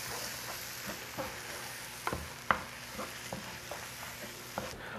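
Flour being stirred into caramelized onions in a pot makes a soft, low sizzle under a regular run of scraping and tapping spoon strokes, one louder knock standing out midway; no voices.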